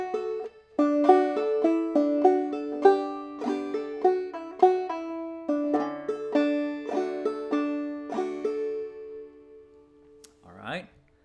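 Clawhammer banjo picks through the B part of the fiddle tune Soldier's Joy, with bright plucked notes, strums and open-string drones in a steady, close and clear rhythm that fades out at the end.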